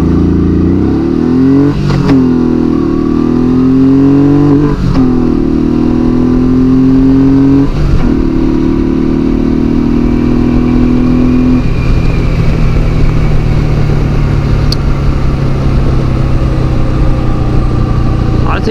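Honda VTX1800 motorcycle, fully stock, revving up from low speed through several gear shifts, engine pitch climbing and dropping in steps under steady loud wind and road roar.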